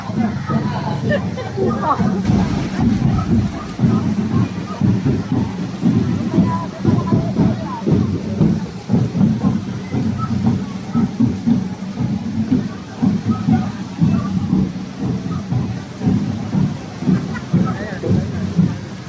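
Steady rain falls with a dull, rumbling wash while several people chatter and exclaim nearby.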